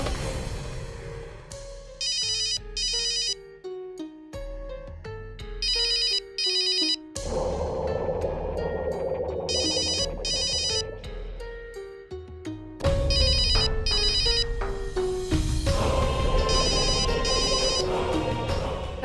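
A telephone ringtone plays repeatedly in bursts of bright electronic chiming over a melodic backing, loud and insistent for the whole stretch with no speech.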